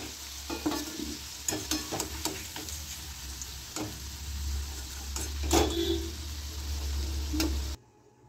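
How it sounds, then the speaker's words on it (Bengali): Steady sizzling of cauliflower frying in hot oil, with scattered clinks and scrapes of a utensil stirring in the pan, then an abrupt stop. "এবার আমি ফুলকপিগুলোকে ভেজে নেব।"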